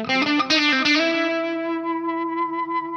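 Guitar played through a Plethora X5 multi-effects pedal into the front of an overdriven amp: a loud, saturated chord strummed a few times, then left ringing with a long, slowly fading sustain.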